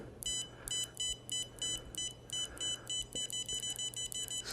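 An electronic controller beeps repeatedly as a button is pressed, with quick bright tones in short irregular bursts over a faint steady hum, close and clear.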